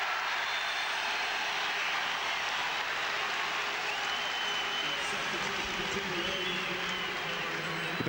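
Crowd at a 2002 All-Ireland hurling semi-final between Tipperary and Kilkenny in a large stadium, a broad sustained roar of cheering and applause held steady throughout, loud and dense with no single voice standing out.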